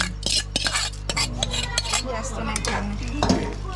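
Freshly caught crabs tossed and stirred in masala in a metal pan, busy clanking and scraping of a utensil against the pot with a faint frying sizzle underneath, close and fairly loud.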